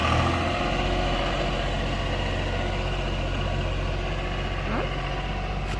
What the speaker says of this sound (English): let's see what the tractor does this time.